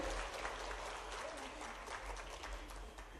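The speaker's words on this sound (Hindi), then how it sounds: "जोरदार ताली बजाकर माननीय मुख्यमंत्री जी का स्वागत करें" Audience applause in a hall welcoming the chief minister at a public event, a steady broad wash of clapping sustained throughout at moderate distance.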